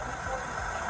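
A car engine idles with a low steady hum, a faint rattle running through it, close by, during a roadside police stop.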